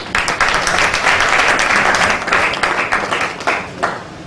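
A church congregation applauding, steady dense clapping throughout with a few sharper claps near the end, loud and close.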